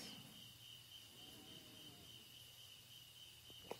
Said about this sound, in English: The sound of the crickets